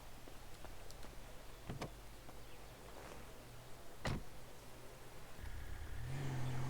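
Car driving in GTA 5 during a roleplay session, with a steady low engine drone throughout, a few brief clunks and knocks, and engine revving rising toward the end.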